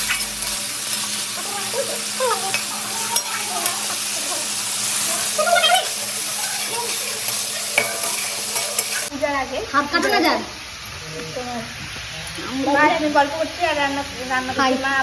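A mother cooks food in a pan in a home kitchen, stirring and sizzling heard close by throughout, while voices talk over the cooking, especially in the second half.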